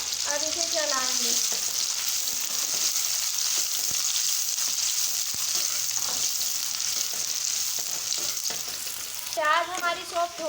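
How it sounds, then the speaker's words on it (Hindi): Onions fry in a pan for Hyderabadi aloo bharta, a continuous bright sizzle with scattered scraping from stirring, brief speech at the start and end. "प्याज हमने डाल दिए, अब इसे चलाएंगे।"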